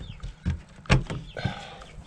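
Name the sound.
chickens clucking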